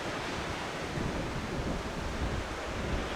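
Strong wind sweeps across a coastal cliff top, a steady broadband roar mixed with distant surf, fairly faint and unbroken throughout.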